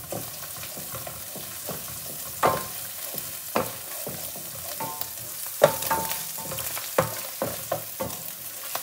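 Chicken pieces frying with ginger in a pan for homemade chilli chicken, a steady close sizzle broken by sharp scraping stirs every second or so, with no talking.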